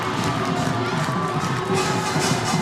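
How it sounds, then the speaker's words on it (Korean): Parents cheering and shouting as a crowd after a penalty-kick goal in a youth elementary-school football final, a loud sustained roar of voices with children shouting among them. "정말 환호하고 있는 외동초등학교의 이 학부 모들입니다"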